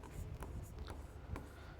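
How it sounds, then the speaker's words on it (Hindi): Faint, quiet strokes of someone writing out an English sentence during a grammar lesson, a few short scratchy marks spread over a couple of seconds. "और एक सेंटेंस लिखता हूं"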